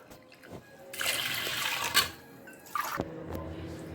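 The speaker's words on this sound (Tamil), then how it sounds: "இந்த கப்பில் வந்து நம்ம அஞ்சு கப் தண்ணி ஊற்றிக்கலாம்" Water is poured from a cup into a pressure cooker holding dal and raw rice, a splashing, trickling pour that runs about two seconds, then a brief second pour, close and fairly quiet.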